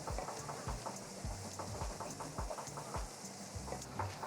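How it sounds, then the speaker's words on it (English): Nuts roasting in ghee with milk powder, stirred in a pan: a faint, continuous sizzle with a regular rhythm of soft scraping stir strokes. "I'm just going to roast them in that ghee"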